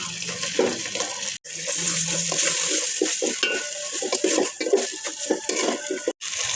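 Chopped onions, garam masala, bay leaf, salt, ginger-garlic paste and cumin paste fry in oil for chicken feet curry, a loud close sizzle with repeated scraping stirs and brief pauses, no voices.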